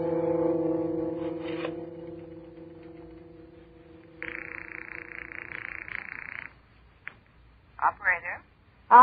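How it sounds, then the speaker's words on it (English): A rotary telephone dial in an old radio suspense drama whirs through a short run of clicks after a stretch of orchestral music, followed by a few brief ringing bursts near the end; someone speaks over parts of it. "Operator, I've been dialing Murray Hill 40599."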